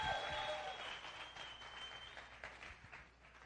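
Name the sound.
church audience applauding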